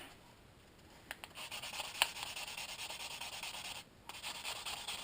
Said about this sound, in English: take some sandpaper and a wooden matchstick. Just sand it down so it's nice and flat.